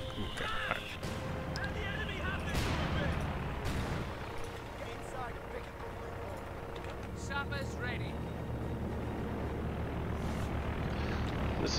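Aircraft engines drone overhead amid Company of Heroes 2 battle noise in a 4v4 match, a steady broadband roar lasting throughout with clustered gunfire-like bursts layered on top.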